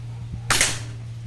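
A single sharp shot from an SPMC long-tank airgun, short and crisp, over a low steady hum.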